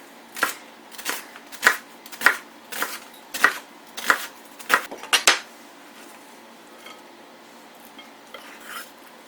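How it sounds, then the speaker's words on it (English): A knife chops a leftover onion on a board, about ten crisp close knocks at a steady pace over five seconds, then faint scattered clicks and quiet. "Okay, next I'm going to cut up this onion."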